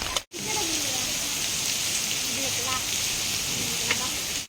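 Rain pours steadily at Malampuzha dam, a dense even hiss that fills the whole stretch after a brief cutout near the start, with faint voices murmuring underneath.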